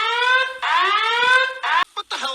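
A loud electronic alarm sounds in sustained rising tones that cut off and restart several times, from an animated Snow White cartoon.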